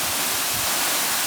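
A waterfall near Thanchi in the hills sends out a loud, steady broadband roar of falling water from close by, unbroken throughout, with no talk.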